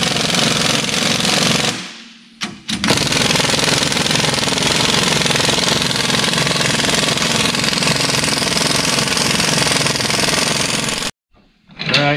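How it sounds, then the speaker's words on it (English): Air impact wrench hammers continuously, loud and close, as it tightens spring compressors on a Polaris RZR XP 4 Turbo S shock with a Walker Evans dual rate spring kit, with short pauses near the start and end. "you have to have an air impact or a larger impact to, and just do both sides evenly"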